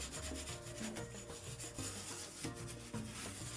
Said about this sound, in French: Là je vais attaquer quand même de frotter un peu plus.